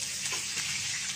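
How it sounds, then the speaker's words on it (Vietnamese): Chicken marinated with onion, garlic, fish sauce and soy sauce sizzles and fries loudly in a pan, a steady close crackle with no talking. "Ướp cho thấm cỡ 15 phút thì chúng ta bắt đầu bỏ vào chảo để chiên."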